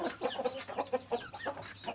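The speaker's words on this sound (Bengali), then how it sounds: "আমরা দেখতে যে একটি মুরগিকে খাওয়ানো হচ্ছে" A chicken clucking while being fed, with a run of short, fairly quiet clucks and squawks heard close by.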